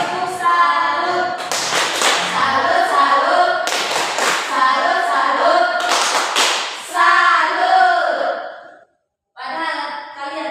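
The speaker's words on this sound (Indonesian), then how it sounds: "Tepuk salut untuk Ellen dengan Nuria." A primary school class performs a rhythmic group clapping routine, children's voices chanting in unison between sharp bursts of hand claps, repeated several times close by before a short pause and more chanting.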